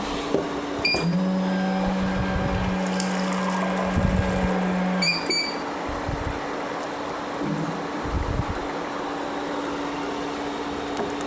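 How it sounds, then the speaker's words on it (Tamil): A tea and coffee vending machine whirs and hums while dispensing almond milk, with a couple of sharp electronic beeps and a steady pump tone for a few seconds, then quieter trickling. "லைட்டாக டச் பண்ணாலே போதும் அழகான பாதாம் மில்க் வந்துடும்"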